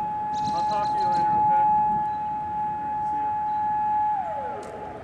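A loud, steady tornado siren tone, from a talking siren, holds for several seconds, then begins to slide down in pitch, with a faint voice under it.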